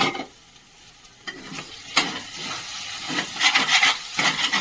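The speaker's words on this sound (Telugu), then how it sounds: "ఇది అల్లం వెల్లుల్లి తర్వాత మసాలా ముద్ద వేసాం కదా, అది కొంచెం బాగా వేగింది" Ginger-garlic masala paste frying in a pan, with bursts of sizzling and stirring scrapes that come and go after a quiet opening moment, louder crackling toward the end.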